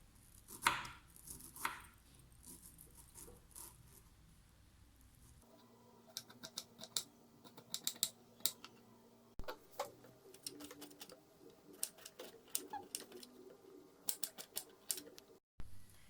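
A knife chops through a washed broccoli stem on a board in sharp, irregular taps, quiet and close, coming in scattered bursts with brief gaps between cuts.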